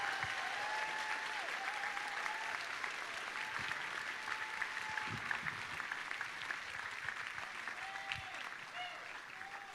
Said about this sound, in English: Let's give them all a big round of applause and congratulations on your hard work.